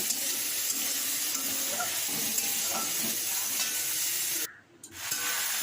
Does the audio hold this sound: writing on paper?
no